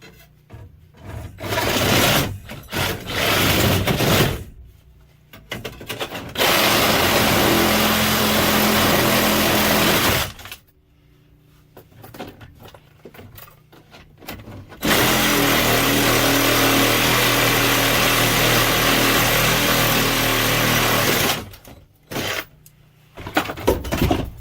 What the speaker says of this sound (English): I'm gonna get the saw. I'm gonna cut them out.